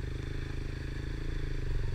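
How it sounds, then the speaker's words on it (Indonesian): A kick-started trail motorcycle running in a forest on Mount Raung: a close, steady low idle with a fast, regular pulsing beat, lasting about two seconds. "Tapi untungnya motor berhasil hidup ya, dan saya dapat melanjutkan perjalanan."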